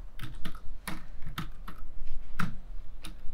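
Sharp, irregular key clicks tap out on a computer keyboard, close and distinct, about a dozen strokes with short pauses between them.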